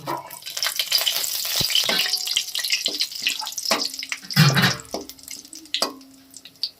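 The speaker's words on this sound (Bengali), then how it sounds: "তেলটা গরম হয়ে গেছে, ফোড়নটা দিয়ে দেব" Whole cumin seeds and cinnamon pieces sizzle and crackle in hot oil up close, with a few scraping stirs and clinks over a steady frying hiss.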